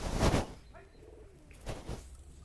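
Madrasi pigeons coo in a few soft, throaty calls, preceded by a brief louder rustling burst, all fairly close in a quiet space.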